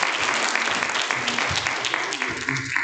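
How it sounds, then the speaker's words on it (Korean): A church congregation applauds in a steady, continuous wash of hand claps after a New Year prayer, fairly close and sustained for the whole moment, with some voices faintly mixed in. "우리 박수 칠 때 들어갑시다."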